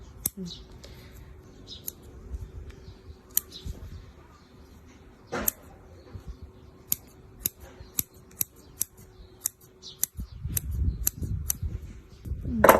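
Small scissors snipping the roots of a Hachifusa Tosho bonsai, crisp close clicks spaced irregularly at first and then in a quicker run, with soft handling rustle and low murmuring beneath.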